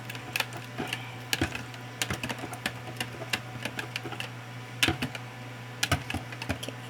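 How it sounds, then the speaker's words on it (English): Pumpkin flan mixture being whisked in a bowl, quick irregular clicks and taps of the whisk against the sides over a steady low hum, close and fairly faint. "So just have to whisk it until all or everything is incorporated properly."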